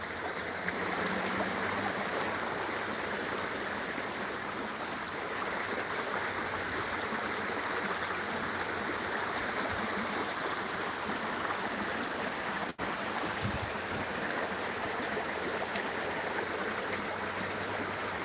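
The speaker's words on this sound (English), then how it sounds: "This is a creek," McMillan Creek flowing steadily, a continuous broadband rush of water over its bed, close and even throughout with no voices.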